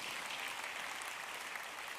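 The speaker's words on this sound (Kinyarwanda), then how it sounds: "Dukomere Imana yacu amashyi." Congregation at a church service clapping together, a steady, even burst of applause from a crowd, distant and moderately faint, lasting the full couple of seconds with no voices.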